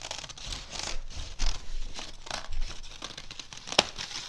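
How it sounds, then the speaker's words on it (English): Scissors snip through a stack of paper flower petals for a spring craft, giving crisp, irregular cuts and crinkling rustles at close range, with a sharp click near the end. "So here I'm going to go around this shape, cutting all these petals out at one time."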